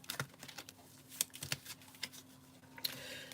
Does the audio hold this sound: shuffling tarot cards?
yes